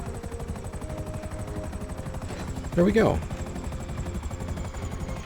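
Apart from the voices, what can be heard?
helicopter in GTA V Online video game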